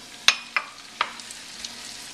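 Shrimp sautéing in olive oil and butter with garlic and red pepper, a steady low sizzle broken by a few sharp pops and clinks of stirring, close by.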